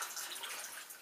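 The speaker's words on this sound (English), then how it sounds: "I got the water going." Water running steadily from a tap into a container while making lemonade, a soft continuous hiss and splash heard alone and fairly quiet.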